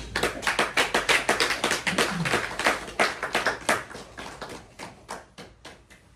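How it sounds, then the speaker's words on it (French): Steady rhythmic clapping from a church congregation praising Jesus, loud and close, gradually thinning toward the end, with no voices over it. "Applaudissez le Seigneur Jésus."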